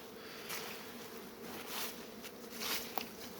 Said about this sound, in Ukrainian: А пасіка ще так загула таким приємним гулом